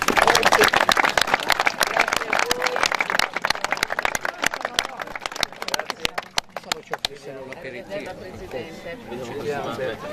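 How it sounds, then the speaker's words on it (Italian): A small crowd at a Cammino di Santa Barbara gathering applauds in dense, crackling claps that fade after about seven seconds, while voices talk over and after the clapping. "Le facciamo un applauso e proseguiamo."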